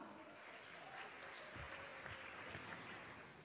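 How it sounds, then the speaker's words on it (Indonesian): A crowd at a university graduation applauds steadily during a speech, a dense patter of many hands clapping together, fairly distant and sustained. "Tepuk tangan untuk kita semua."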